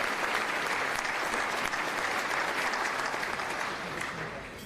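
A large audience gives Mayor Nirenberg a sustained round of applause, loud dense clapping that holds steady and then begins to taper toward the end.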